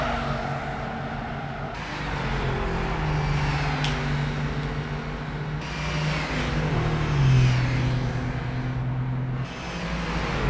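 A car engine in the video game Gran Turismo 5 revs and drones steadily, pitch rising and falling as it accelerates, with no talking.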